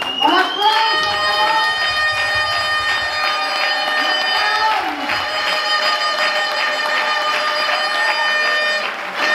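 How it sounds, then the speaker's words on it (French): An audience at a political gathering claps and cheers, crowd noise running steadily beneath a loud sustained tonal horn or buzzer blare with bright ringing overtones. "On applaudit."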